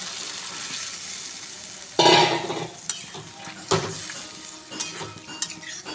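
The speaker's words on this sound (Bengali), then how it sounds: "আমি এরপর তার মধ্যে গরম জলটা দিয়ে দেব।" Hot water goes into a sizzling pan of katla fish curry with potato and pointed gourd, setting off a sudden loud hiss and crackle. Softer sizzling, bubbling and utensil clinks follow close by.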